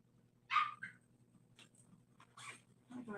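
Puppy heard faintly indoors, giving a short high yip and then scattered whimpers and soft barks over a low, constant room hum.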